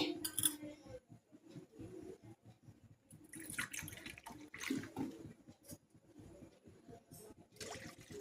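Water pours from a medium bowl into a kadai, about one and a half bowlfuls, as a splashy, uneven trickle with intermittent clinks, fairly quiet and close, with no talk.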